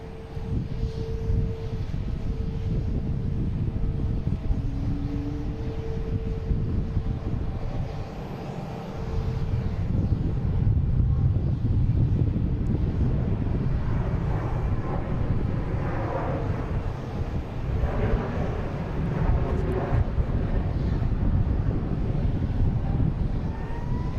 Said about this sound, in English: Here is JetBlue coming in from Vero Beach.